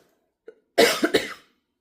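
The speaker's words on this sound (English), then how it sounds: "I'm going to start coughing." One short throat sound is followed by a pair of close, dry coughs from a person indoors, each burst sharp and brief, with quiet around them and no talk.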